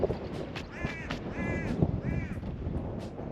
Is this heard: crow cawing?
yes